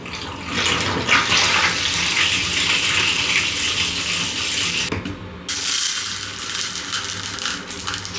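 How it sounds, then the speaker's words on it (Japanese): Hot water poured into a glass to dilute a drink, a loud close steady gush and splash lasting several seconds with a brief pause, no talking. "お湯割りをします。"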